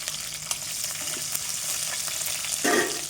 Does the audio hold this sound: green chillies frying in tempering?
yes